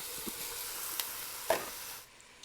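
Ground beef and Italian sausage, taken out of its casing, sizzle in a pan for lasagna. A steady, close hiss of frying runs throughout with a few sharp clicks, then eases slightly near the end.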